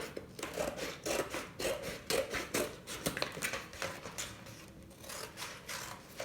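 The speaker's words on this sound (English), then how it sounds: "I'm going to trim off these side flaps" Durable scissors trimming the side flaps off a thin cardboard box, producing a steady series of close, scraping snips and rasps, with no talking.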